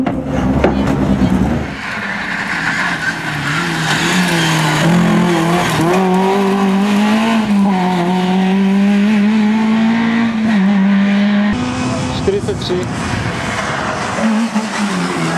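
Škoda Felicia Kit Car rally car at a rally event, its engine droning loudly and steadily with shifting pitch for most of the clip, a brief break midway, close by.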